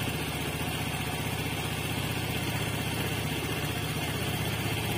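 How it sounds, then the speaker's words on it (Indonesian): A motorcycle engine idles steadily after a voltage regulator replacement, giving a continuous close low hum with no talk over it. "Ini posisi stasioner, bosku."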